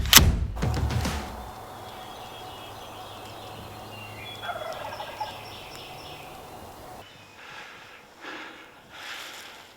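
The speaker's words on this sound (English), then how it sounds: "We got this bird, gobbler, and we're gonna get set up and call real lightly." Wild turkey gobbler gobbling outdoors in the early morning: a loud rattling gobble at the start, then a quieter stretch with faint distant calls and rustling.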